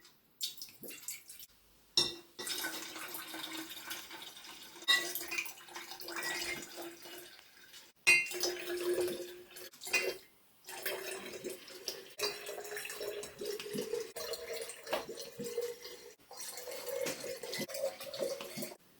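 Olive oil poured steadily into jugs, a continuous splashing trickle that runs almost unbroken for about nineteen seconds, briefly interrupted a few times, with the pitch of the filling rising gradually as each vessel fills.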